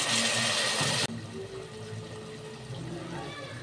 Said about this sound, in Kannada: 3 ಗ್ಲಾಸ್ ನೀರು ಹಾಕಿದ್ದೀನಿ